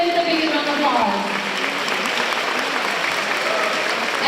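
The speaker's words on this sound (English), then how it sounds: "Please come on the stage and give him the biggest round of applause." Loud, steady applause from a dinner audience welcoming a chamber of commerce head onto the stage at a formal European Day banquet, continuous clapping filling the room throughout.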